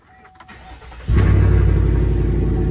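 A car engine, just fitted with an oil catch can, cranks briefly and then fires into a loud, steady idle that holds close by.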